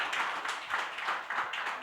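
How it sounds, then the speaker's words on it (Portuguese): A church congregation claps and applauds together, a dense steady wash of many hands at moderate distance, sustained throughout without talking. "Você pode aplaudir o Senhor"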